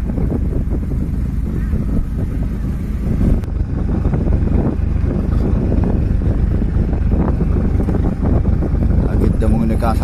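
A fishing boat's motor drones low and steady out at sea off Kuala Marang, close and loud with wind buffeting the microphone and someone talking over it throughout.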